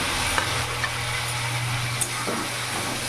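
Fried papaya and potato go into a boiling spice paste in a pan, giving a loud, steady close sizzle with a few stirring clinks and scrapes over a low hum; no speech.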